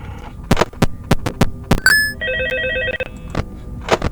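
A telephone rings in short repeated electronic bursts, loud and close, between sharp thumps and clicks over a low steady hum.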